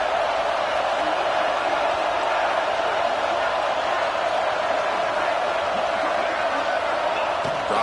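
Stadium crowd at a Rams versus Bearcats football game roaring on third down, a dense, continuous wash of cheering and voices at steady loudness throughout.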